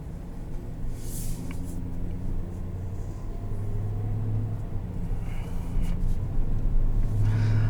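A 2021 Chevrolet Tahoe Z71 with a 10-speed transmission cruises out onto the road, its engine hum and road rumble steady and fairly loud inside the cabin, with no talking.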